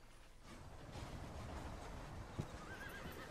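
A horse in the Red Dead Redemption video game neighs and whinnies over a steady clip-clop of hooves, with one sharp louder hoof strike near the end.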